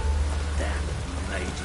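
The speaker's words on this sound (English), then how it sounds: "Rain again." Rain falling in the video game The Witcher 3: The Wild Hunt, a steady hiss of rainfall over a low rumbling bed, with a brief voice murmur partway through.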